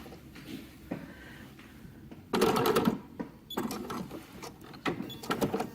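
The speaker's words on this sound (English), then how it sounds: "I'm going to come down to stitch those together nicely" A sewing machine stitches two layers of fabric together for a caftan cover-up, running in a few short, close bursts separated by brief pauses.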